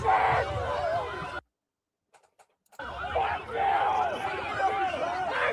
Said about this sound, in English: The crowd's getting big here.